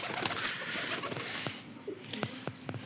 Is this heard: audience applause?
no